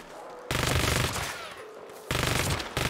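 Automatic gunfire rips out in Saints Row (2022), loud and close, in two rapid bursts separated by a brief lull.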